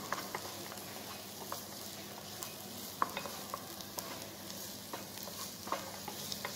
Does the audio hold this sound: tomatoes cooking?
yes